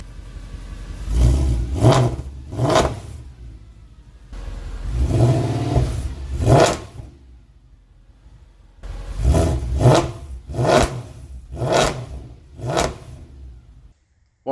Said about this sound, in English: Exhaust sounds awesome. Has a real crisp rev